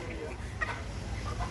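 Rooster clucking at a fair, close and moderately loud, in short bursts against a busy crowd background with people talking nearby.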